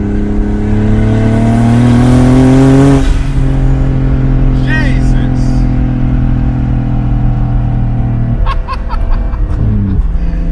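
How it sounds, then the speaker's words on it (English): A turbocharged BMW E36's engine revs hard and holds a steady drone, then a turbo blow-off valve lets out a sharp hiss and chatter before the revving picks up again. "A lot of people love this blow-off valve."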